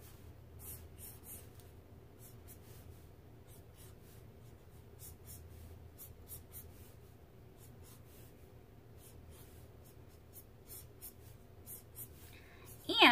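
A pencil scratches in quick, rhythmic strokes across paper while a cartoon chibi-style figure is sketched. The sound is close and steady, and a light bump at the end breaks it.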